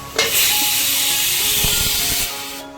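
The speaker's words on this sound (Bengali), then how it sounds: "চিচিঙ্গাটা ভাজা চলছে" A loud, steady sizzle of snake gourd frying in a hot pan, continuous hissing for a few seconds before it quiets.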